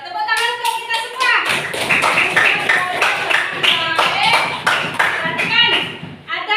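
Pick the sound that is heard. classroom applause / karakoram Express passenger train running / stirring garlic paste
classroom applause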